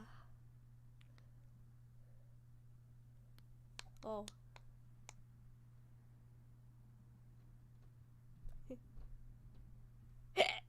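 A single faint hiccup breaks through a quiet room with low electrical hum, alongside sparse clicks and a couple of brief voice sounds.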